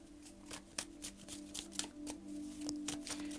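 Tarot cards are shuffled close by in a quick series of soft riffling snaps and flicks, with a faint steady hum underneath.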